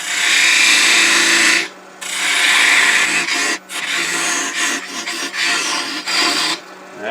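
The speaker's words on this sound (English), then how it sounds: "Use my thin parting tool" A thin parting tool cuts into spinning wood on a lathe, a loud harsh scraping rasp in bursts, a long initial cut followed by shorter interrupted strokes with brief pauses of the motor hum.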